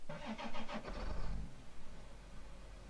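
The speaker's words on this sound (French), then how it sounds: "je démarre le tracteur" A farm tractor's engine cranks over with a rapid starter rhythm for about a second, then catches and settles into a low, steady idle, heard close and fairly loud with no talking.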